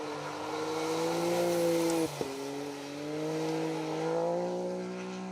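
An off-road safari racing car driving the course at Bovington, its engine holding a steady loud drone with a brief cut and a sudden rise and fall in pitch partway through, no voices heard.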